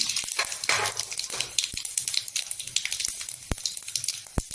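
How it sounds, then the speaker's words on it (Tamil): Cumin and mustard seeds fry in hot oil in a kadai, a crackling sizzle broken by sharp popping spits, several loud pops near the end; no voices. "ஒரு கடாயில் எண்ணெய் ஊற்றிருக்கிறேன் ஜீரகம் ஜீரகம் கடுகு சேர்த்துக்கோங்க"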